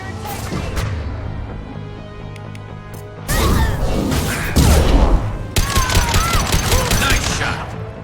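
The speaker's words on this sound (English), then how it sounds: "Attacking target. Firing a high-impact shot." Heavy high-impact shots are fired in the sci-fi shooter Mass Effect 2, with loud, dense gunfire and crashing impacts in repeated bursts. A squadmate's voice calls out over the din.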